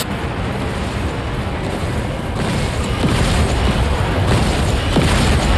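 Rapid gunfire and explosions in the War Robots game merge into a dense, loud, continuous roar of booming blasts with no separate shots standing out.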